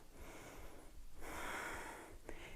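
Deep breathing in and out during a morning yoga session, close and soft, with an audible airy inhale and exhale and no talk.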